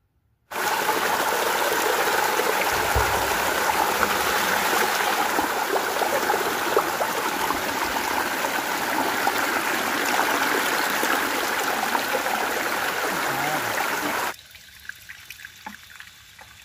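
A mountain stream in Dalma wildlife sanctuary, Jamshedpur, rushes over rocks in a loud, steady close wash of water that cuts off abruptly near the end, leaving faint trickles.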